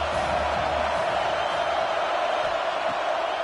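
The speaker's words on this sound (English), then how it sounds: "This crowd bringing the energy and noise early." A football stadium crowd at a college game between Oregon and Clemson roars in a dense, continuous wash of distant cheering and noise, with a commentator's voice faintly present.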